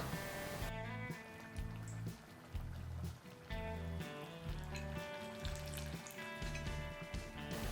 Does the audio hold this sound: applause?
no